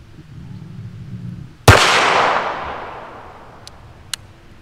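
A single sharp, loud gunshot from a Standard Manufacturing Switch-Gun cracks out close by and echoes away slowly, with a fainter click or pop afterward.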